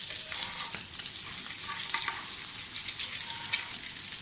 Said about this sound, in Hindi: एक साइड से फ्राई हो गई, अब इसको चेंज करें।